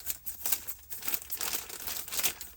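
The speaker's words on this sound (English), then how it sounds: "Let me get some scissors. Let's go ahead and cut this open." A plastic bag crinkles and rustles up close in quick, uneven bursts as it is cut open with scissors.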